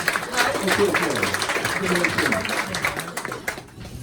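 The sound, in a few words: audience applause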